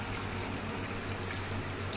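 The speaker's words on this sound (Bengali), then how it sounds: "এবার একটু জল গরম দিয়ে দেবো এতে" Hot water pours steadily into a pan of fish being cooked, a continuous close splashing rush with a low constant hum beneath it.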